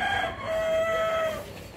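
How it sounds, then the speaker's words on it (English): At a live poultry stall in Amman's old town souk, a rooster lets out one long, drawn-out crow, close and clear over low market background noise, with no talk. "Sights and sounds. Chickens."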